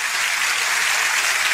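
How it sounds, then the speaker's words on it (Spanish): Congregation applause during a Spanish-language church service, a brief, steady roar of many hands clapping at once, loud and uniform. "Un aplauso al rey."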